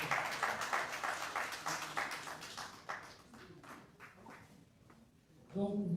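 Audience applause at an official signing ceremony, a dense patter of clapping from a gathered crowd that is strongest at the start, thins out over several seconds, then gives way to a brief voice at the end.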